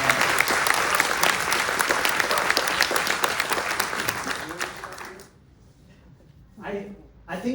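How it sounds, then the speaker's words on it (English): An audience at a Sundance Film Festival Q&A applauds the cinematographer, a dense, steady wash of clapping that fills the room for about five seconds, then fades quickly and leaves only scattered quiet sounds. "I think it's worth giving a round of applause to Adolfo Veloso"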